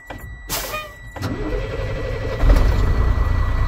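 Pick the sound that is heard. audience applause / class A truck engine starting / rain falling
class A truck engine starting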